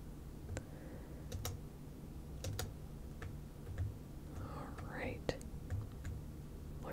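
Soft, sparse keyboard taps and mouse clicks while building a fish tank in a game, faint and close, with a quiet whispering voice underneath throughout.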